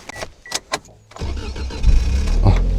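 A kei camping car's engine cranks and catches in snowy conditions after a few faint clicks and knocks, then settles into a steady, fairly loud low rumble that fills the rest of the clip.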